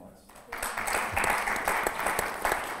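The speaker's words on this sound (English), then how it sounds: "A round of applause for all of our panelists." Audience applause for the panelists at a cybersecurity lecture swells in after a brief quiet start, a dense clapping wash with a voice talking over it.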